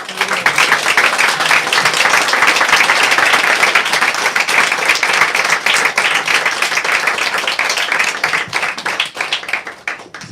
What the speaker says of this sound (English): If we could just give everybody a round of applause.